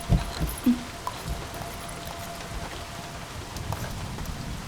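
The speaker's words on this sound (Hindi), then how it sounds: "इतनी बारिश हो रही है" Steady rain patters continuously, a soft even wash with a few sharper drops close by; no voices.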